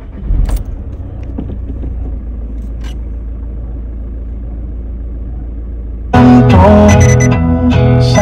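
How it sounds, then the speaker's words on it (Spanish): A Seat Leon MK2's engine idles with a steady low rumble after starting, then a much louder, fuller burst of sound swells over it for the final couple of seconds. "A ver, voy a arrancar el coche."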